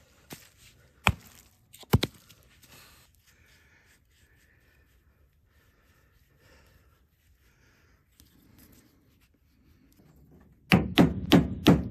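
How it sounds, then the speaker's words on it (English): An axe bites into a log that was earlier cut at an angle with a chainsaw: two sharp, isolated blows near the start, a long quiet stretch, then a quick burst of four loud strikes at the end. "Let me get the axe and see if I can bust this out of here."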